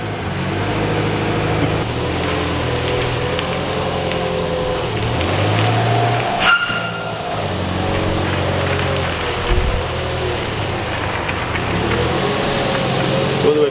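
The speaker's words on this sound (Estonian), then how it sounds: "Ma ajan enda Subaruga välja ja läbi teeme minu Subaruga esimesed testid." A Subaru car engine runs with a steady low drone that holds through the whole stretch, fairly close, with a brief louder bump midway and no talk over it.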